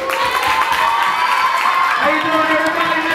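A school talent show audience claps, cheers and whoops continuously, a loud, steady wash of crowd noise with high children's shouts on top.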